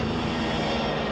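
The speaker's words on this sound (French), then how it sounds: "Le moteur tribord s'emballe." A British European Airways airliner's starboard engine surging as takeoff is aborted on the runway, a loud, continuous roaring engine drone with a steady low hum, filling the whole moment without a break.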